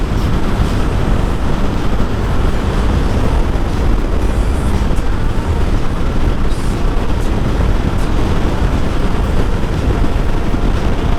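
A KTM 390 Adventure single-cylinder motorcycle engine revs hard near 10,000 RPM, a loud, constant roar mixed with heavy wind rush that stays unbroken from start to finish.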